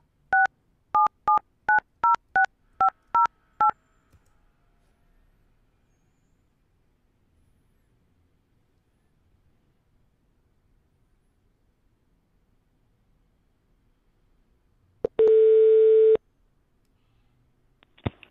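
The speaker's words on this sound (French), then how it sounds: "Je vais composer le numéro de téléphone d'un ami." A phone number is dialed through a Mac softphone as a quick run of eight clear DTMF tones, followed after a long near-silent gap by a single loud, steady ring or call tone.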